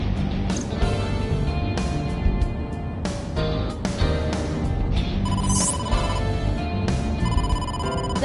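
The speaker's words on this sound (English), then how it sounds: "Date, incoming call from the boss." A phone rings for an incoming call inside a video game, a repeating electronic ringtone over a steady background music bed, several rings in a row with no talking.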